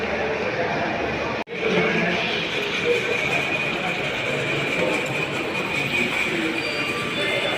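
A train at K R Puram station in Bangalore rumbles steadily and loudly throughout, with a constant rolling drone and a brief dropout near the start, while voices murmur faintly underneath.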